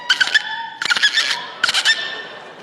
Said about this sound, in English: Dolphin.